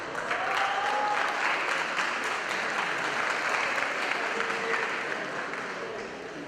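An audience at a talk applauds in a steady, fairly loud round of clapping lasting several seconds, with faint voices mixed in as it gradually tapers off.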